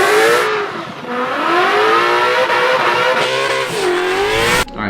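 A 2024 Ford Mustang S6550 revs hard while drifting, the engine note rising and falling in long sweeps with tire squeal mixed in, loud and close before cutting off abruptly near the end.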